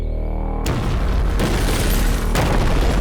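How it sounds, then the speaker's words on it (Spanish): A loud, deafening explosion in a town at night erupts with a sudden heavy boom, followed by a dense roaring rumble and a second burst about two seconds later. "La explosión fue muy ruidosa, atemorizante."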